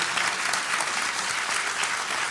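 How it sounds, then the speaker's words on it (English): Dense, steady applause from a concert audience after a devotional song piece, many hands clapping at once and sustained evenly through the whole stretch with no voices above it. "So a big round of applause."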